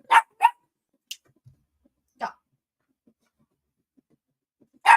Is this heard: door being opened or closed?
no